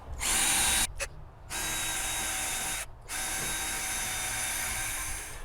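A power drill with a concrete bit grinds into stucco in several sustained, loud bursts separated by brief pauses, nearby, with no voices.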